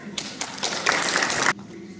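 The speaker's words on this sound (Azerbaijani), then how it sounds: "Alqışlarınızla" An audience at a literary poetry event in Nakhchivan bursts into brief applause as a poet is invited to the stage, a dense patter of claps lasting about a second and a half before cutting off.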